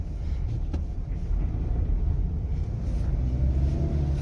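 A second-hand, first-owner Toyota Camry sits with its engine running at a steady idle. The low rumble is close and continuous, with a slight rise in level toward the end and no talking.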